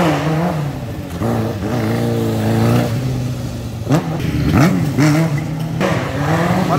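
Motorcycle fitted with a Honda Hornet 600 engine revving hard outdoors, rising and falling in pitch through several loud throttle bursts, with people talking and shouting nearby.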